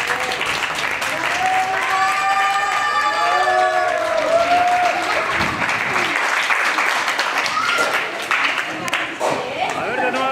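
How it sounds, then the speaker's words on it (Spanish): A crowd at a quinceañera celebration applauds steadily, dense and sustained, with a voice and music heard over the clapping throughout. "todos un fuerte aplauso a la quinceañera."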